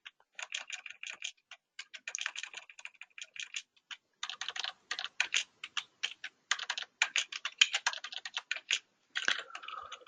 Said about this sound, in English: Makes it a little easier for typing.